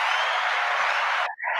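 Applause from a television studio audience welcoming a guest on a festive morning show, a broad steady burst of clapping that cuts off briefly near the end and then resumes.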